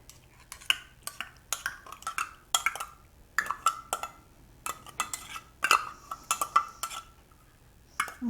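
A spoon clinks and scrapes sharply against a bowl in an irregular rhythm as green chilies are stirred into Mexican cornbread batter, close and fairly quiet with no voices.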